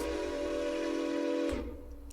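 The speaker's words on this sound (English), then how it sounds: "And then there is an NYC whistle, this one that sounds off," A New York Central steam locomotive whistle in the Railroader train simulation game sounds one sustained chime-like blast that cuts off abruptly, with a brief mechanical release afterward.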